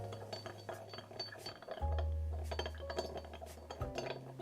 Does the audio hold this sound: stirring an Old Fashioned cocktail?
yes